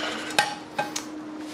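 A Tramontina Primaware metal omelet frying pan clanks a few times as it is picked up and set around, light knocks against a quiet room.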